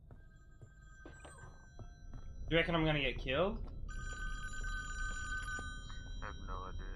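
An old telephone ringing inside a cabin in Friday the 13th: The Game, repeated electronic trills sounding in bursts, with someone talking over it.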